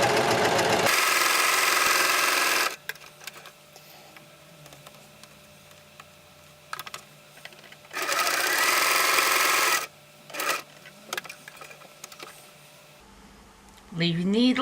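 A sewing machine stitches a quilted bag, running in two loud, steady whirring bursts of a couple of seconds each, separated by quieter handling clicks and brief talk.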